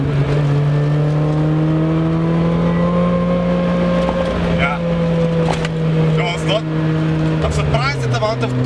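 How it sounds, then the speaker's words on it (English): A Toyota Corolla with a swapped dual Beams engine holds a loud, steady engine drone in fifth gear that climbs gradually. Someone talks over it in the later part. "I'm in fifth gear at 80, I'm probably foot down a little bit and the revs just climb."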